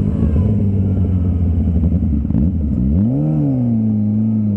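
A Suzuki GSX-R 600 track motorcycle engine runs loud and close while riding. It holds a steady throaty note, dips briefly, then the revs climb and settle again.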